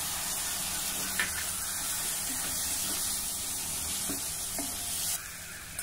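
Onion and tomato frying in a pan with red chili powder, a steady close hiss and sizzle interrupted by a few soft scrapes from a stirring utensil, with no talking.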